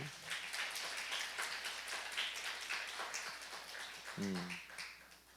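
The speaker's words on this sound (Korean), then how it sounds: "우리 정세진 자매님 박수 한번 쳐주시기 바랍니다." A church congregation at a Sunday service applauding a new accompanist, a soft, continuous patter of clapping heard at a distance, with a brief voice near the end.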